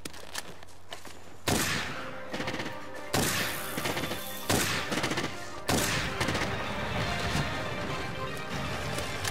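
Piercing shots fired in the Monster Hunter World video game: a handful of sharp, heavy blasts spaced a second or two apart, each with a rumbling tail, over a steady game backdrop with no talk.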